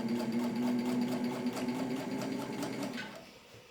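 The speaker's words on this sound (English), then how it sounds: "This is just one layer of marine vinyl I'm sewing here." A Singer 15-91 sewing machine stitches a single layer of marine vinyl, its needle thumping in a steady rapid rhythm close by, then slowing and stopping near the end.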